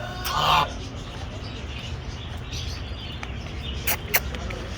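Soft clucking from young chickens against a steady outdoor background hiss, with a couple of brief higher chirps near the end; no talking.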